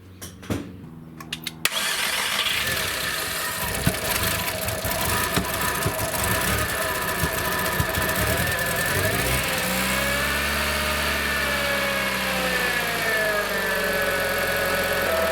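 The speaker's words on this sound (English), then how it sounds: "now we will try the starter again" Audi TT engine cranking briefly with a few clicks, then catching and settling into a steady, loud idle that runs to the end, heard close up with no talk.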